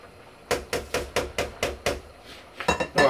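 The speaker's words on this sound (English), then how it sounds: "Just give it that last stir." A spoon knocking repeatedly against the side of a pot of boiling bolognese sauce, about nine sharp, evenly spaced clanks, close and fairly loud, with a quick flurry of scrapes at the end.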